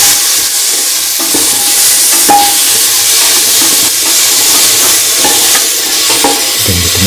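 Potatoes fry loudly in a pan for garlic potato rice, a constant close sizzle and hiss broken by occasional scrapes of stirring.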